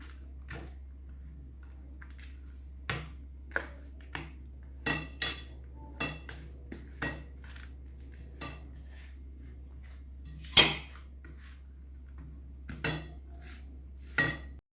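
Peanuts stirred into hot jaggery syrup in a pan for chikki, heard as sparse, distinct metallic clinks and scrapes of a spoon against the pan over a quiet background, one sharper knock near the end.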